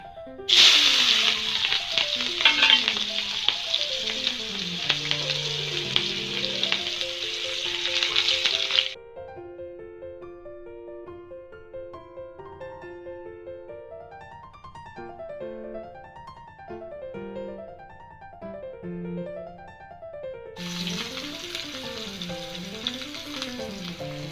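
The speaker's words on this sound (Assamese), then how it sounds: "এনেদৰে কাটি থোৱা পিঁয়াজখিনি তেলত অলপ দেৰি ভাজি থৈ ল'ম" Loud, steady sizzling of chopped onions frying in hot oil, cutting out midway then returning, while melodic background music plays throughout.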